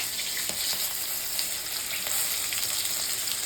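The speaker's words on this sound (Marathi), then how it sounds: "जिरं घातलंय, गॅस मध्यम ठेवलाय।" Cumin seeds and halved green chillies sizzle in hot oil over a medium gas flame for dal bhaji, a steady, close, bright frying hiss with faint crackles and no voices.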